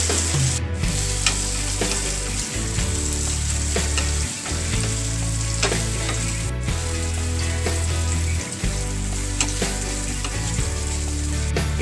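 Tomatoes and browned onions fry loudly in a pan, giving a constant close sizzle with continuous stirring and scraping throughout.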